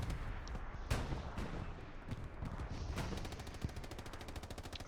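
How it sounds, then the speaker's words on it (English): Artillery smoke shells land in the video game Hell Let Loose, with several thuds and cracks over a dense, steady rumble of battlefield noise and a rapid rattling that carries on near the end. "Artillery smoke shells coming down, trying to cause a nuisance."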